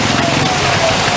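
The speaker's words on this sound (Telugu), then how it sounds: "మరి ముఖ్యంగా హైదరాబాద్ లో వర్షం దంచి కొడుతోంది" Heavy rain pouring down in Hyderabad, a loud dense unbroken hiss of drops hitting surfaces close by, with no pause through the clip.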